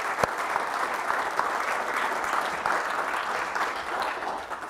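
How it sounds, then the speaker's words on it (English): Steady, moderately loud applause from a university lecture audience honoring a speaker's parents, an even wash of many hands clapping throughout with no voices on top. "Give them a big round of applause"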